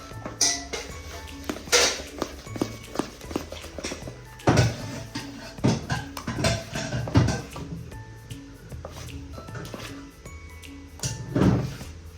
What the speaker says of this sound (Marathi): आपल्याला आता हे मिश्रण होतं ते 5 मिनिट तरी आपण हलवून घ्यायचं आहे.